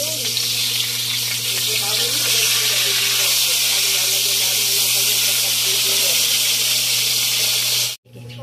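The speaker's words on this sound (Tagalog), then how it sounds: "Magigisa na po si Mister. Meron tayo nag-isa pa. Bawang." Garlic sautéing in a small amount of cooking oil for sarciadong lapu-lapu, a loud, steady close-up sizzle and hiss that runs unbroken for the whole stretch before cutting off abruptly near the end.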